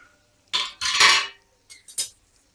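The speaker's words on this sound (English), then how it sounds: "I will just take the lid off" A metal lid lifted off a pan of fermented mung bean batter pancakes gives a few sharp clinks and clatters, close and fairly loud, with short pauses between.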